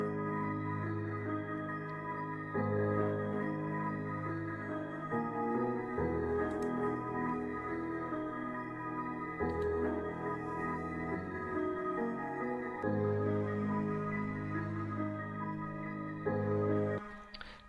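Memphis beat intro built from layered piano, bells and chopped melody samples, sustained tonal chords shifting every few seconds in a steady loop at moderate level, with no talk.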